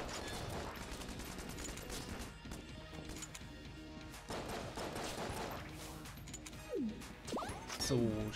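Rapid video-game gunfire and crossbow shots in Enter the Gungeon, a steady clatter of close, sharp hits and crashes running throughout, with someone talking over the action.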